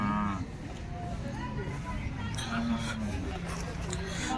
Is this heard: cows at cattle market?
yes